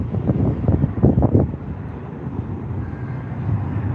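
Airplane taking off from the runway at Nairobi's JKIA airport, a broad rumbling roar swelling and fading at a distance, mixed with buffeting wind noise on the microphone.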